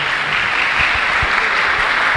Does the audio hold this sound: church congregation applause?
yes